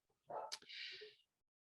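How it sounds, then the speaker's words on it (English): A dog gives a single short bark, somewhat faint and heard alone, apparently set off by someone ringing a doorbell. "I apologize for the dogs barking"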